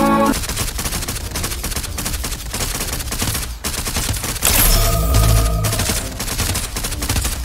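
Gunfire in the mobile tactical game Girls' Frontline: dense, loud volleys of rapid shots run continuously, with a heavier burst of blasts midway.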